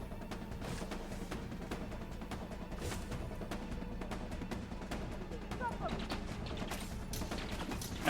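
Gunfire on foot in Elite Dangerous: a rapid string of sharp shots crackling at a steady pace throughout, fairly faint and mixed with game ambience and occasional low voice sounds.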